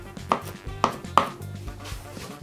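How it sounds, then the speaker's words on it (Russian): A knife slices turkey on a cutting board for a cold beet soup, making four crisp, close chopping knocks at an uneven pace, followed by quieter board sounds and no speech. "Индейку я режу, как Бог на душу положит."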